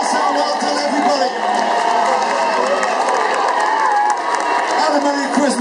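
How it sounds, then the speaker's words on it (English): Sustained crowd noise at a Christmas parade in Whitchurch, a steady wash of applause, cheering and children's shouts, loud and close throughout with voices mixed in. "can you carry on your applause for us?"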